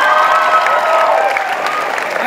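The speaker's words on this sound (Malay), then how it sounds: "Okey, berikan tepukan untuk" A large audience at a university leadership colloquium opening applauds steadily, a dense wash of clapping that holds loud and even throughout.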